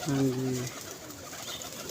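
A pigeon at a pigeon club gives a short, low cooing call up close, followed by a quiet background hum.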